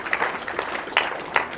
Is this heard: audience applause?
yes